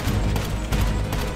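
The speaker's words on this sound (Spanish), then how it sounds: "Solo tenemos un disparo, no sé dónde disparar." A gunshot fired at Godzilla in the modded GTA 5 video game bursts out as a dense, loud blast of gunfire noise that fills the short moment with no talking.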